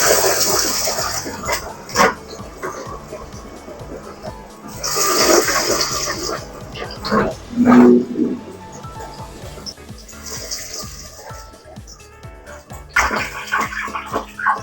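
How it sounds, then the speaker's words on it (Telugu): Chickpea allasandala vadas dropped into hot oil hiss in sharp bursts of sizzling that flare up and die down several times, with a voice speaking between them. "ఇప్పుడు ఆయిల్ హీట్ ఎక్కాక వడలు వేసుకుందాం"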